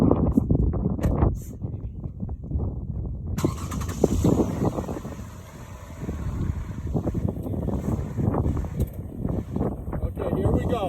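A car rolls over plastic trading card holders outdoors, a low engine rumble with wind buffeting the microphone, crunching and creaking as the tires pass, with people talking nearby.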